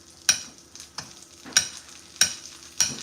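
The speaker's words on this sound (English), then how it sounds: "we just basting our salmon" Salmon basting in a hot pan with butter: steady sizzle broken by four sharp spoon clinks against the pan at regular intervals, close and clear with no talk.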